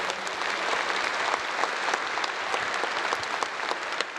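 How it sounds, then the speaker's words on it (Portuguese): A church congregation applauds at a Mass, dense steady clapping from many hands filling the space at even loudness throughout. "Uma salva de palmas ao nosso Deus."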